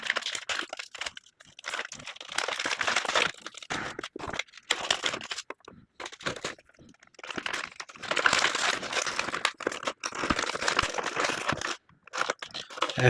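Plastic packaging of a Teenage Mutant Ninja Turtles Mutations Mix 'N Match toy being opened, with sustained loud crinkling and crunching, brief gaps, and occasional cutting or tearing sounds, close up.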